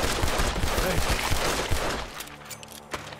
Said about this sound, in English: The gunshots are coming from there.